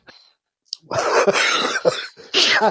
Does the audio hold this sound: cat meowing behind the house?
no